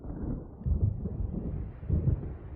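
Deep rolling thunder from an approaching storm in Alan Wake Remastered, a continuous low rumble that swells twice, steady and fairly loud, with no voices.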